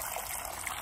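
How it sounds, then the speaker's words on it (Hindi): Water poured out for pigeons, a steady soft trickle and splash running through the short moment at low level, with no voices. "ये मैं ले लेता हूँ पानी और डाल देता हूँ इनको।"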